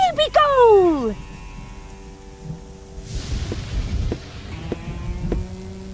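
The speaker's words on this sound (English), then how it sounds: "I'm afraid of thunder." Low rumbling thunder with a steady patter of rain in the video game Chaos on Deponia, building softly after a voice's opening exclamation and rolling on under a faint hum to the end.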